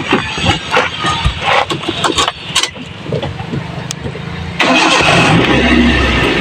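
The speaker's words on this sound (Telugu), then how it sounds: "నేనైతే వెహికల్ స్టార్ట్ చేస్తున్నానండి." A 2008 Maruti Swift Dzire sedan is cranked and fires up: a few seconds of clicks and cranking noise, then the engine catches and settles into a steady, close, loud idle.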